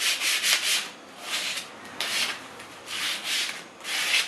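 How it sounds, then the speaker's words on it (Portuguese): Sandpaper rubs across the top of an MDF box in rhythmic back-and-forth strokes, about eight close, dry scratchy passes with short pauses between them. "E aí eu já posso lixar toda a parte de cima."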